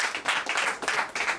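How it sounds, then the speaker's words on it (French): An audience at an investiture ceremony claps close and loud in a short, quick burst of rhythmic hand claps with no voices over it. "On les applaudit encore une fois"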